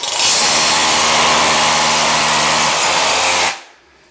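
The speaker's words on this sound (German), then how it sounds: "Da ist nichts mit dem Hammer, alles mit dem Bohrer." A power drill bores into plasterboard for a drywall bathroom niche, running loud and steady for about three and a half seconds before spinning down and stopping.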